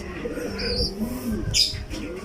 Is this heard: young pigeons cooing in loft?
yes